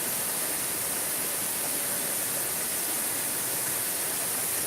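Kanto Lampo waterfall in Bali pours in a steady, unbroken roar of rushing water that fills the whole clip, with no voices.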